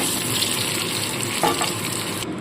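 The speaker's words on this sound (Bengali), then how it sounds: "আলুগুলো লাল করে ভেজে নিচ্ছি" Potatoes for a boal fish head curry frying in hot oil in a pan, a steady dense sizzle and crackle with a few brief stirring scrapes, close and continuous, no voices.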